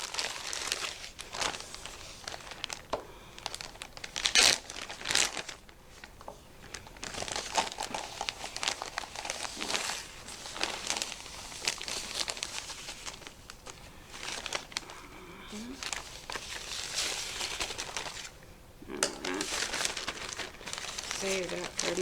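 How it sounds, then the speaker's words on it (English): A Ziploc plastic bag crinkles and rustles as a cup of sugar is poured in, with irregular crumpling bursts close by and a person talking intermittently over them. "you're going to need a Ziploc bag, and we're going to put 1 cup of sugar in there"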